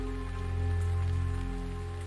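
Steady rain pattering in the video game Teardown, a dense continuous hiss of drops on surfaces with a low hum beneath, fairly loud and unbroken, no voices.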